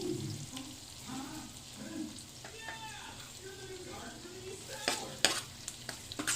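Onion frying and being stirred in a pan for a salted egg shrimp dish: a soft, steady sizzle with light scraping, under a voice speaking, with a few sharper clinks near the end.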